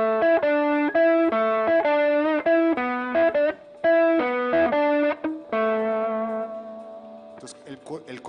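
Electric guitar runs through a distortion effects pedal, a buzzy, saturated melodic line of sustained notes and quick phrases, loud and close, with a short pause before a final fading ring.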